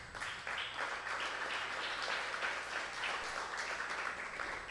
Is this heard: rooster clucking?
no